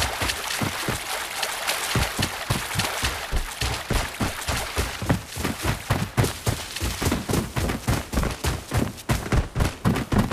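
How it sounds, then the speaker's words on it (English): Gunshots echo from a village in the shooter game Arena Breakout, a long run of evenly spaced cracks that falls into a steady rapid rhythm over a constant noisy background. "I hear gunshots coming from the village."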